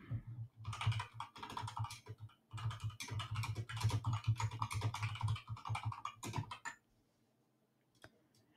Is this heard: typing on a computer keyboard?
yes